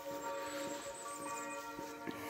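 Church bells ring faintly in the distance early in the morning, on a hiking route through rural French hills, their tones lingering under soft background ambience.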